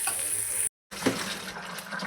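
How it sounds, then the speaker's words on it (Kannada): Tap water runs steadily into a sink at home, a continuous hiss that briefly cuts out and then resumes, close and moderately loud with no talking. "ನಲ್ಲಿ ನೀರು."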